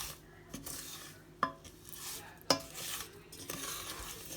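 Butter, sugar and honey melting in a pan are stirred with a utensil, giving soft scraping swirls punctuated by a few sharp clinks against the pan's side, fairly quiet and close, with a faint sizzle beneath.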